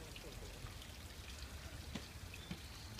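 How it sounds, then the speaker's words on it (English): A small waterfall in Arisugawa Park, Tokyo, splashes steadily at moderate distance, a soft continuous patter of falling water with occasional brighter drips, fairly quiet outdoors. "Here's peaceful sound of water. Little waterfall"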